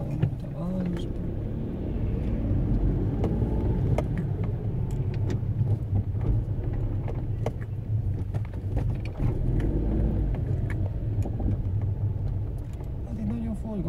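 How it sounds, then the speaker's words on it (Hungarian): City traffic in Székelyudvarhely heard from inside a moving car, with a steady low engine and road rumble throughout and people talking over it. "mi a forgalom itt a városban?"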